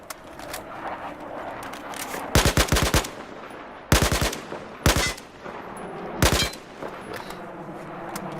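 In Battlefield 4, an AK-12 rifle fires in four or five short full-auto bursts of rapid, evenly spaced cracks. The shots are loud and close, with quieter game ambience and distant gunfire between bursts.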